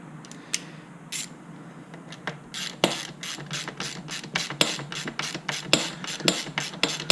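A ratchet socket wrench clicks steadily while tightening a bolt during installation of a brushcutter attachment on an ECHO SRM 3020, with sparse clicks at first that then settle into a fast, regular, close ratcheting rhythm with no talk.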